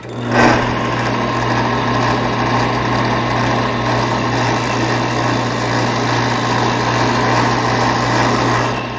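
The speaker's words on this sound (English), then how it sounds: "Now to smooth out that curve on here, we'll use the disc sander." A disc sander smooths a curved edge on a wooden shadow box, a loud, steady, close motor whine with a dense grinding rasp that holds evenly throughout without pause.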